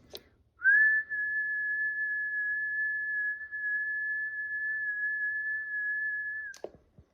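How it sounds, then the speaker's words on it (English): A person whistles one long steady note straight into a ham radio microphone to feed an ATU-100 automatic antenna tuner on sideband, starting after a brief pause, held evenly for about six seconds before stopping abruptly with a small click. "I'll whistle into it so it hears noise."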